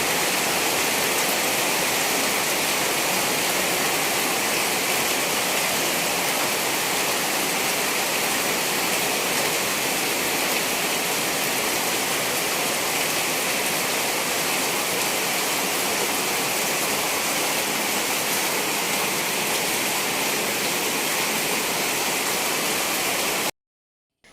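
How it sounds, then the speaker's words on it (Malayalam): Heavy evening rain pours down in a steady, dense roar at close range, unbroken and loud from start to finish before cutting off abruptly. "സന്ധ്യയായപ്പോൾ നല്ല മഴയായിരുന്നു കേട്ടോ."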